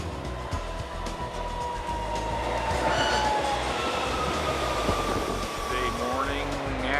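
A metro train rumbles steadily with rising and falling wheel and motor tones and faint squeals, heard inside busy Union Station in Washington, D.C.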